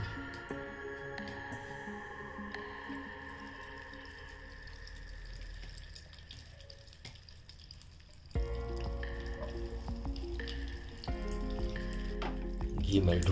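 Ghee melting in a pan for Punjabi atta pinni, a soft continuous sizzle that turns noticeably louder and busier partway through.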